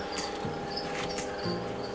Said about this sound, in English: after we got all the crickets together, and you can see they're all here in this box right now